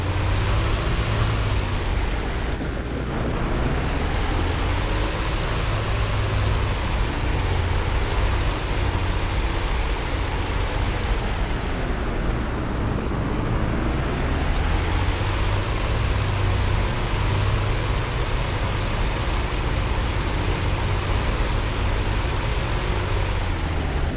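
In the DCS flight simulator, a steady engine drone continues without a break as the P-51D taxis behind a guide car on the taxi course. The pitch swells and dips slowly with the zigzagging, and nobody speaks.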